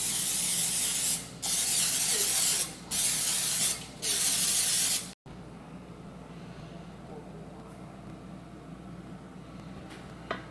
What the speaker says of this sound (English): spray our coconut oil in there